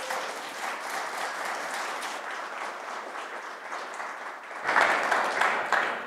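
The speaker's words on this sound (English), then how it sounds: "Big round of applause." An audience applauds in welcome for engineer and entrepreneur Jeri Ellsworth, a dense steady wash of clapping that swells louder toward the end of the roughly six-second burst, with no voices over it.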